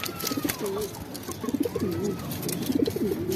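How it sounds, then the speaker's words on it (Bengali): Pigeons coo in repeated low, throaty phrases close by, with a steady murmur of background noise throughout. "তাই আমরা একটা নতুন কবুতর আনছি"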